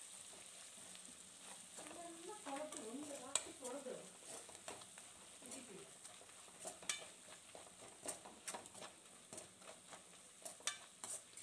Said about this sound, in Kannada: ಖಾರ ಪುಡಿ ಧನಿಯಾ ಪುಡಿ ಹಾಕಿಬಿಟ್ಟು ಚೆನ್ನಾಗಿ ಮಿಕ್ಸ್ ಮಾಡ್ಕೊಡ್ಬೇಕಾಗತ್ತೆ